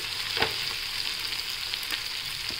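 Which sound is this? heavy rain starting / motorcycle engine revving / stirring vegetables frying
stirring vegetables frying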